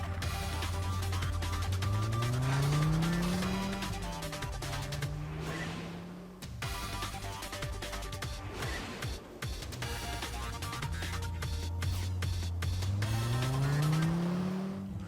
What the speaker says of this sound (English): We're going to take a cab up to Emma's.